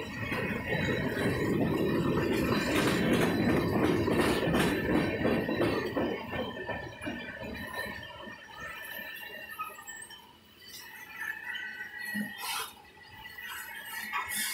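A CSX freight train with tank cars rolls past nearby in Pascagoula, Mississippi, with a heavy low rumble, clanking cars and high metallic wheel squeals that ease off as it moves on.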